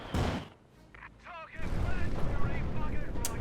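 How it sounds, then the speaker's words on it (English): A mortar and howitzer barrage in Company of Heroes 2 lands as a heavy boom, then a lull, then a rolling run of blasts and crackling impacts, with voices heard amid the shelling. "That mortar hit dead on. That is... Okay, yeah, heavy HE barrage."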